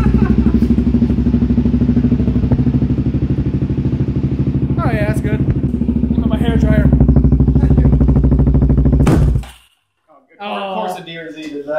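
A dirt bike engine idles loudly and close with a steady rapid chugging, a brief rev in the middle, then cuts off abruptly near the end; people talk over and after it.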